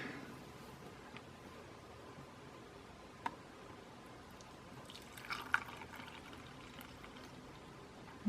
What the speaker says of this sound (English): And then we can go ahead and pour in the water